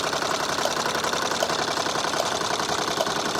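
A Wilesco D32 toy steam engine running at a slow pace, giving a steady mechanical chuffing hum with faint regular ticks roughly every second, close and continuous with no talking.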